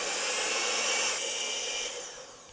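Electric mixer whirring steadily as it beats softened butter into coffee cookie dough in a shallow, wide bowl, a loud close motor hum that shifts pitch slightly midway and cuts off with a brief knock at the end.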